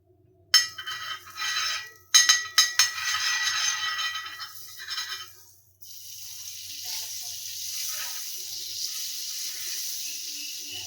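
Butter hits a hot tawa griddle for toasting pav, bursting into sharp crackling sizzles with a few clinks, then settling into a softer, steady hiss near the end.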